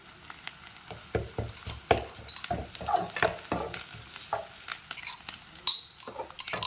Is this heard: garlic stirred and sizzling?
yes